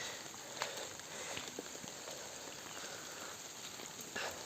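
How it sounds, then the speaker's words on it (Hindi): Steady rain falls continuously in a village, a soft even patter with scattered louder drips and taps, heard at a moderate level without voices. "लगातार बारिश हो रही है।"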